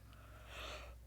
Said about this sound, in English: I just have to yawn.